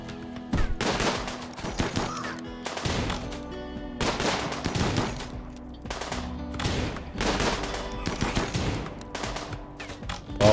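Video game gunfire rattles out in repeated loud bursts of rapid shots, roughly half a dozen volleys separated by short pauses, close and sharp with no voices over it.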